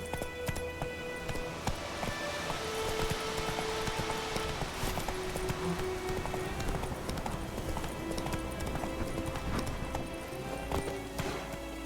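Hooves clip-clop in a brisk, even rhythm as a horse is ridden in The Witcher 3: Wild Hunt, close and constant throughout over a bed of game ambience.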